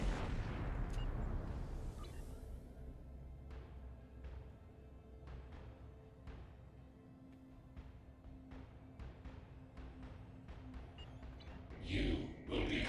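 Tetryon cannons firing during a space battle in the Star Trek Online game, a string of sharp, distant-sounding shots repeating at irregular intervals over a low rumbling background, with a louder burst near the end.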